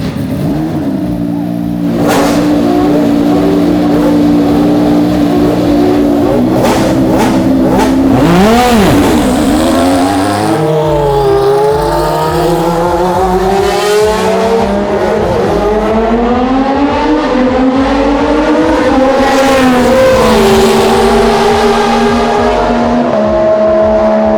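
McLaren MP4-5 Formula 1 car driving on track, its high-pitched engine revving loudly and continuously, climbing and dropping through gear changes with sharp rising sweeps, with no talk.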